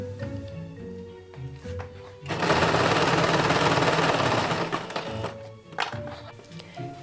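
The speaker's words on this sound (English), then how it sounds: "Time to sew your fabric." A sewing machine stitches leather jacket fabric in a loud, rapid mechanical run lasting a few seconds, with quieter stop-start whirring and clicks before and after.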